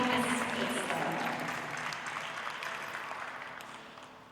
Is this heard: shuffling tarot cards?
no